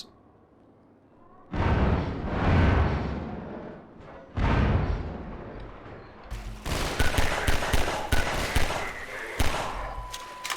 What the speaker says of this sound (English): They're gonna throw in some of these explosive barrels. And they have to wait for them to explode.